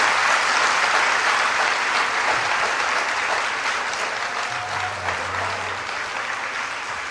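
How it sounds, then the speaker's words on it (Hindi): An audience claps steadily through the whole stretch to thank a little girl at a religious gathering, the applause loud, dense and continuous, fading slightly toward the end with no talk over it. "एक बार बच्ची को ताली बजा के धन्यवाद दो"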